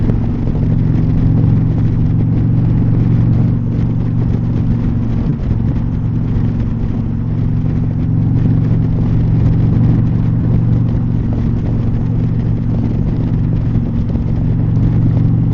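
An Indian Pursuit motorcycle engine on a solo highway ride, a loud, steady, low droning hum with wind rush that holds evenly throughout.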